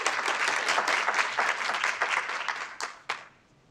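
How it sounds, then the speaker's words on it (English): Applause from an audience fills the room, steady clapping that thins out and ends with a few last claps. "So to give a round of applause for our first group"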